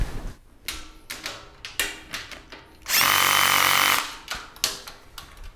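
Fittings are being tightened on a Vevor HS245 welding trolley. A run of sharp clicks and knocks comes first, then a loud one-second burst of a power driver, followed by more scattered taps and clunks close by.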